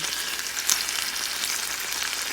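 Dense, steady sizzling of chicken tocino frying in a pan, loud and close, with a bright crackling hiss throughout and no talking.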